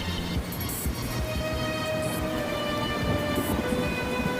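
Rain falls through a stormy night as a steady, soft hiss, with low rumbles rolling underneath and no voices.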